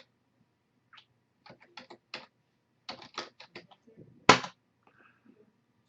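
Someone types a Linux command on a computer keyboard, tapping out quiet, scattered clusters of keystrokes that end in one louder key press, heard close up in a quiet room.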